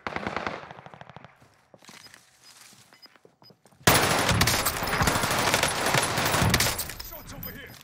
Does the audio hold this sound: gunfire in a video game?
yes